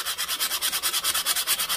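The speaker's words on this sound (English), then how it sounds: "turn the sandpaper over." A Stanley 4 1/2 plane cutter with penetrating oil rubbed back and forth on sandpaper, a close, steady, rhythmic scraping hiss with quick regular strokes and no voices.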